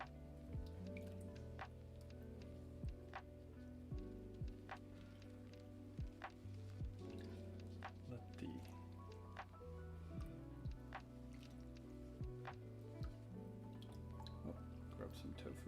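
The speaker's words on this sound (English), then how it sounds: "now I'm just gonna pour the broth over it" Broth is poured over a bowl of vegan ramen with gluten-free noodles, seaweed, red onion, red bell pepper and broccoli, making soft liquid splashes and drips over a steady low kitchen hum, with talking at times.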